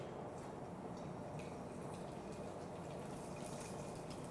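Sesame seeds sizzle in a hot pot, a soft, continuous crackle running steadily without pause, fairly quiet and close, with no voices over it.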